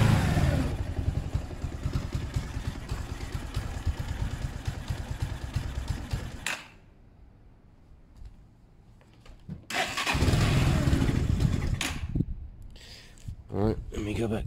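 A Zontes 125 motorcycle engine runs on choke nearby, loud and steady for several seconds, then drops low and quiet before revving back up, with short bursts near the end.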